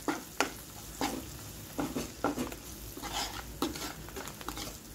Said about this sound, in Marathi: आणि ही तिळाची पावडर जी आपण वाटून घेतली होती। सगळं टाकून फिरवून घ्या।